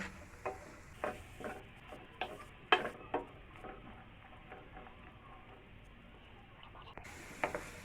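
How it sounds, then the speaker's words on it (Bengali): Mixed vegetables with a little salt being stir-fried on a low flame for fried rice, with a spatula scraping and clicking against the pan in irregular taps over a soft, quiet sizzle. "এবার এগুলো লো ফ্লেমে নেড়ে চেড়ে ফ্রাই করে নিব।"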